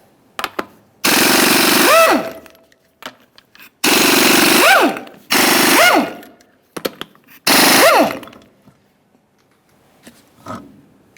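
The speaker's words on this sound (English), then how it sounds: "start removing each of our 5 21mm lug nuts" Impact wrench removing the five 21mm lug nuts from a 1994-2001 Dodge Ram 1500 front wheel: four loud, close rattling bursts of one to two seconds each, with pitch rising and falling as each nut spins off, separated by quiet handling clicks.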